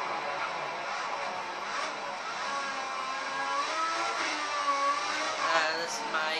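A Ferrari Formula 1 car's engine in the F1 2014 racing game whines at high revs, a steady, moderately loud drone with rising and falling pitch as the car shifts through gears.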